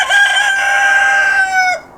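A single long crow from a cuckoo Polish chicken inside a farm coop, one sustained strained call of about two seconds, loud and close, with no other sound behind it.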